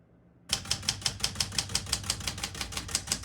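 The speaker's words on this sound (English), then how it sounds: "As you can see, all the keys type nice and none of them skip or stick." Keys strike steadily on a 1980 Smith-Corona Classic 12 portable typewriter, about a dozen crisp, evenly spaced mechanical clacks in quick rhythm, close and clear with no talking.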